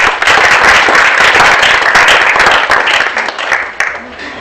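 Audience applause at a low-tech innovation prize-giving ceremony, a dense, loud wash of clapping that holds steady for several seconds before thinning slightly toward the end.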